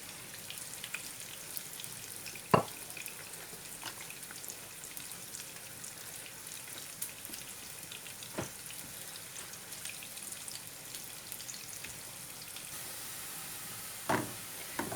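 Tadka tempering for a pakora curry sizzles in a hot pan as a continuous, soft crackling hiss, with a few louder pops and clinks scattered through it.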